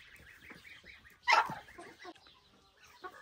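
Village hens cluck nearby amid a flock of fowl, with one loud squawk standing out over softer, scattered clucking and murmuring.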